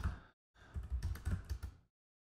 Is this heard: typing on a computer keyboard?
yes